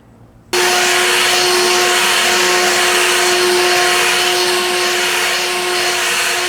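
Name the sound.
leaf blower blowing excess polymeric sand off patio blocks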